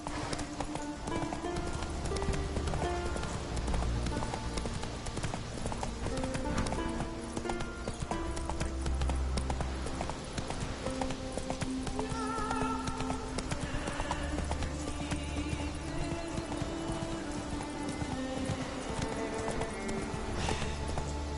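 Roach the horse gallops in The Witcher 3, steady clip-clop hoofbeats running continuously and loud over an orchestral music score, with occasional whinnies and snorts.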